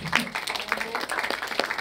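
Audience applause in a cinema, moderately loud clapping throughout the short stretch with a voice speaking over it.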